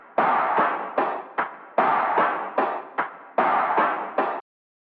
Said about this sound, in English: Finally, I also added this cool percussion loop